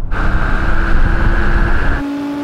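An Audi R8 accelerates hard in a drag race: a loud, continuous engine roar with a steady rising tone that drops as the car shifts near the end.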